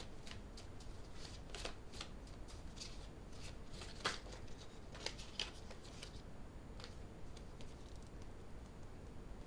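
A deck of tarot cards is shuffled by hand, soft papery riffles and flicks repeating in quick bursts at close range with no talking over them.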